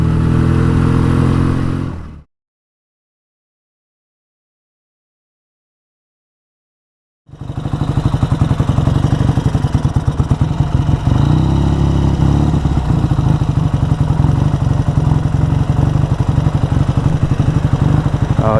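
BSA A10 650 Super Rocket motorcycle engine running roughly and bogging down, a loud close uneven mechanical chug that cuts out briefly before restarting and labouring on steadily, with no voices.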